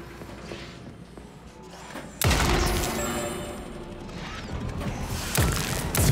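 A weapon in Atomic Heart fires with a sudden loud crashing blast, followed by a sustained mechanical roar and a second sharp hit near the end, no talking over it.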